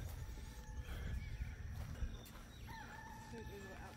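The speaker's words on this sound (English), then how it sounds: "Are we gonna get any sleep with this rooster over here?" Rooster crowing at a roadside lodging, a faint, somewhat distant drawn-out crow over low background rumble.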